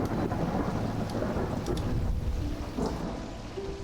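Steady heavy rain and rumbling thunder from a storm in the video game Strange Antiquities, a continuous dense wash of sound heard alone without speech, easing slightly toward the end.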